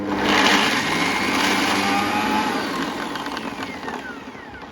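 A mixer grinder whirs loudly and steadily as it grinds soaked beans into dosa batter, a high motor whine that eases slightly toward the end.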